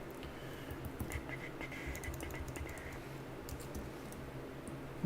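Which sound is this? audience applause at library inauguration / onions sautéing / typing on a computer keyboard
typing on a computer keyboard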